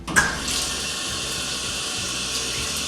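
Water pours steadily from a waterfall-style bathroom sink faucet, beginning with a brief splash and settling into a loud, even rush close by.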